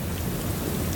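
Steady rainfall in the video game Disco Elysium, a constant soft hiss of drops with a low rumbling undertone, even and unbroken throughout.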